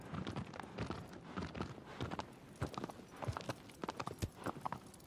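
Horse hooves clip-clop as Agro trots across the ground in Shadow of the Colossus, with uneven, close, clear hoofbeats heard alone.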